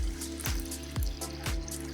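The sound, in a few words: water being poured into a Ninja Slushi machine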